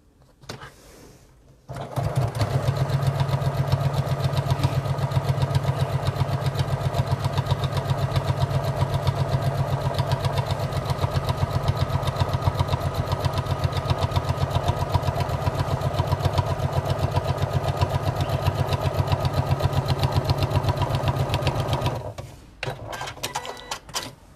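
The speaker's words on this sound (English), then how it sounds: "now I'm just gonna sew the bottom edge" A sewing machine runs steadily for about twenty seconds, stitching the bottom edge of a fabric tote bag. The whirring motor is close and continuous, with brief quiet handling sounds before and after.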